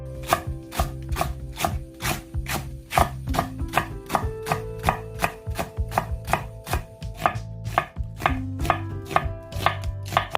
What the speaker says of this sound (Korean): 대파 한 단 넉넉하게 어슷 썰고